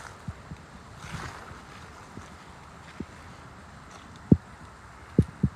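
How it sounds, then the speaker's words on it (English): Snapping turtles splash in creek water, giving a few sharp, close splashes near the end over a steady outdoor hiss of wind and moving water. "They're splashing in the water."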